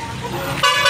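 A car horn toots once amid slow traffic jammed on a road outside a degree college entrance, a short loud honk over the low rumble of idling vehicles.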